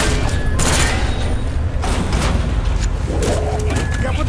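Gunfire from a Black Ops squad shooting out door hinges during a campaign mission, a dense burst of loud shots and impacts running continuously through the whole stretch amid heavy battle noise.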